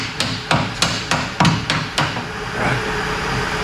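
Sharp metallic hammer blows with a big hammer ring out one after another on a Dodge Challenger QA1 suspension part, in a quick, fairly regular series, close by, then give way to a low background rumble.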